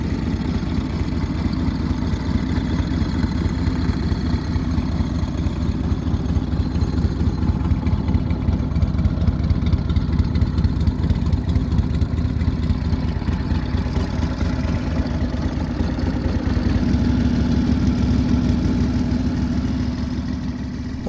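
A restored WWII-era Harley-Davidson motorcycle engine idles steadily and loudly up close, its low rumbling pulse continuous and unbroken throughout, with no voices.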